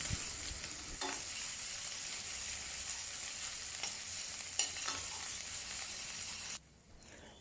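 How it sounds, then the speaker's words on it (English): Minced garlic and ginger sauté in melted ghee for a chicken Madras curry, giving a constant close sizzle with a few stirring clicks before the sound drops away abruptly near the end. "Melt some ghee in a pan again. And add 2 teaspoons each of minced garlic and ginger."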